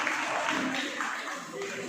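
Applause for an official at a karate competition, a broad wash of clapping from a crowd, steady and fairly loud throughout.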